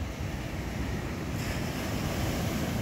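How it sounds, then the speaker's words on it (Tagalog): Steady roar of sea waves churning close by, mixed with strong gusting wind buffeting the microphone, continuous throughout. "Medyo malakas na rin ang alon na naman ng dagat."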